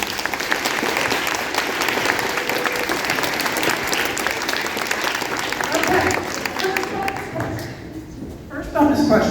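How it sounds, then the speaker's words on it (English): Parents in an audience at a quiz bowl applaud a team, with loud, dense clapping filling most of the stretch before it thins out near the end. "Parents, you can give them a round of applause for that math."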